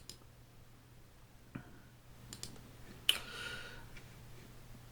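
A computer mouse clicks once on an OK button during photo editing in Lightroom, a sharp single tick standing out against a quiet room with faint hum and a few softer clicks around it.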